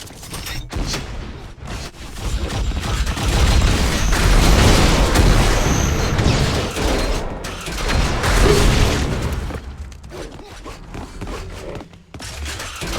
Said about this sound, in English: Very, very nice rockets here by Boomza.